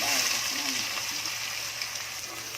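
Chopped onions sizzle in about three spoonfuls of hot oil for a cashew gravy, a dense, continuous frying hiss heard up close for a couple of seconds.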